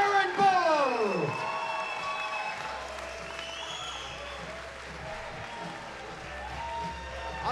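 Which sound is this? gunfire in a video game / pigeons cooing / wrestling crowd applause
wrestling crowd applause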